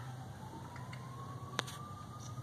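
A faint siren wails in the distance, its tone slowly rising, over low background noise with a single sharp click.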